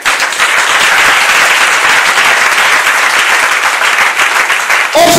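A church congregation applauds loudly and steadily throughout a Sunday service, a dense wash of clapping from a large crowd that fills the space without pause.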